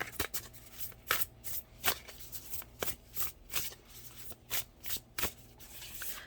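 Tarot cards are shuffled by hand during a reading, producing close, crisp riffling bursts that repeat in a loose, steady rhythm with brief pauses between them.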